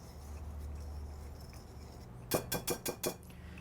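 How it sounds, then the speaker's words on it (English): A utensil stirs flour and sugar together in a large bowl, giving about five quick scraping clinks in a short rhythmic burst near the end, after a quiet stretch. "In a large bowl, I'm going to combine my flour and my sugar"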